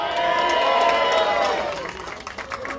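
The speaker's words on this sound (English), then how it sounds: "let's give a round of applause for The Alchemist" Crowd cheering and clapping at a Hollywood Walk of Fame ceremony for Cypress Hill, a dense outdoor roar with whistles and yells that swells, then thins out toward the end, with a voice coming through over it.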